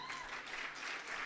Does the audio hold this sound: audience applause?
yes